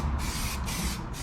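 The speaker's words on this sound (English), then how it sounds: "shooting down some primer" A spray can shoots primer paint onto a car in a loud, close, continuous hiss with brief dips in the flow.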